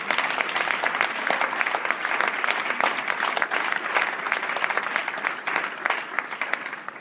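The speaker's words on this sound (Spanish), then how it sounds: "¿Cuántos aplaudimos el nombre del Señor?" A church congregation claps steadily for the Lord's name during a Spanish-language sermon at a Madrid church, a dense, continuous applause filling the room without a break.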